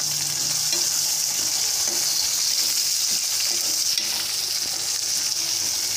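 Onions frying in a pan until light brown give a steady, close sizzle throughout, with faint stirring clinks underneath and no talking.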